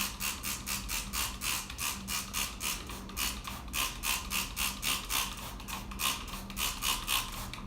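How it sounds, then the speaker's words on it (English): A hand spray bottle mists seed-starting soil in quick, regular squirts, roughly three per second, each a short hissy burst over a faint mechanical clicking, close up with no voices. "I'm just going to moisten it a little bit with my spray bottle"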